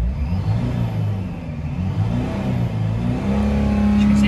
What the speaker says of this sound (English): As you can see, high revs.